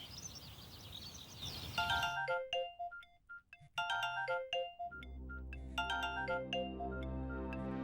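A melodic electronic phone ringtone plays a bright, repeating tune of chiming notes, loud and close, with no voices.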